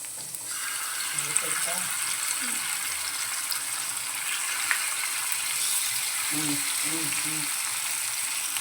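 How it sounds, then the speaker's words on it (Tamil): Masala-marinated fish pieces fry on a dosa griddle with a loud, steady hissing sizzle throughout, while a voice talks faintly underneath. "இது ரெண்டும் நல்லா ஃப்ரை ஆகட்டும்"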